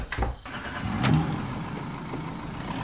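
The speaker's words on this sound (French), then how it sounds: "avec pour seul bruit celui de son moteur" Engine of a small 4x4 driving at night, a steady mid-pitched hum running alone throughout, with a few knocks and clunks near the start.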